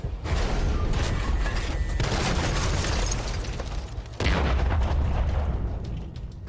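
Tank cannon fire with APCR rounds in a video game: heavy booming shots and crackling bursts over a constant loud background of battle noise, with a sharp new blast partway through.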